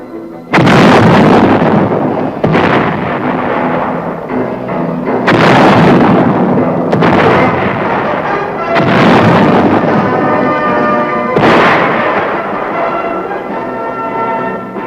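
A US Army tank main gun fires during crew gunnery training: about six heavy, loud booms spaced a few seconds apart, each followed by long rolling rumble and echo, with no talking.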